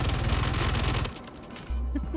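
A Gemini F55 light machine gun firing in Star Citizen, a loud, rapid burst of tightly spaced shots for about a second, then a short pause before a low rumble resumes.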